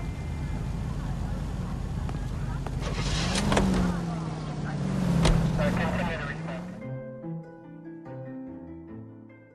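A car in the video game L.A. Noire drives along with a steady engine rumble that swells and eases as it accelerates, then fades as music takes over at the end.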